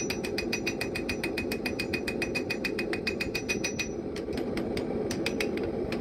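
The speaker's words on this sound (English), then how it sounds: "I start beveling with a 3-pound doghead hammer." Forging hammer, a 3-pound doghead, beveling a steel knife blade strikes in a fast, steady run of sharp metallic blows. A brief pause comes near the end, then the blows resume, all close and loud.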